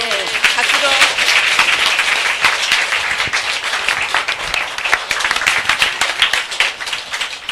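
An audience at a seminar bursts into sustained applause for a cardiologist about to speak, many hands clapping densely and loudly throughout, with brief voices mixed in at the start.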